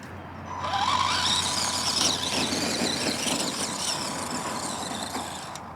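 An ARRMA Gorgon RC truck tears around a gravel mound, its small motor whining and squealing up and down in pitch over crunching gravel, fairly faint and close.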